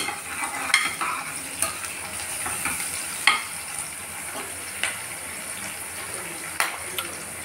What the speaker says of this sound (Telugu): పచ్చిమిర్చి, ఉల్లిపాయ వేసానండి. ఇప్పుడు ఇది కాస్త ఎర్రగా వేగాలి.